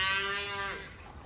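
A Simmental cow on a Turkish village farm gives a single drawn-out moo, moderately distant and fading at the end, with no talk.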